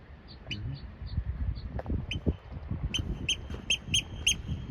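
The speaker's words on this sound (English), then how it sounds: "chirpy bird there." Small bird chirping in rugged, windy terrain, a run of quick high tweets that grows busier toward the end, heard over wind rumble and someone speaking.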